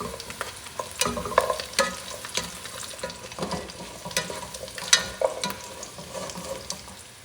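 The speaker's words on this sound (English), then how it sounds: "I'm going to mix everything together." Ingredients for a Castilian garlic and bread soup are stirred in a pan, with scraping and clinking strokes at an irregular pace over a soft sizzle, close by.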